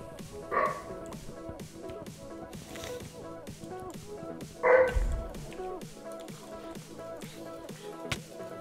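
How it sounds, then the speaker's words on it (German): A dog in Minecraft gives a couple of short barks, one early and a louder one midway, over steady rhythmic in-game music and tapping. "Boah, Hund!"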